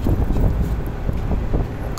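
A Fuji Electric air-conditioner compressor on a rooftop with a mechanical fault runs loudly and roughly, giving a heavy low rumble with uneven throbbing pulses that stays strong and close throughout.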